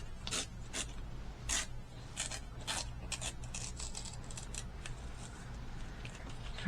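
Scissors cutting paper for a no-sew journal, a series of quiet, crisp snips and rustles at an irregular pace, close by but faint.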